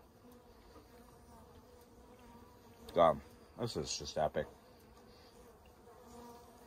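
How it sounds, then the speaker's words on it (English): Honeybees in a Warré beehive give a steady low buzz, with louder bursts of activity partway through as a voice speaks briefly over them. "Full of bees."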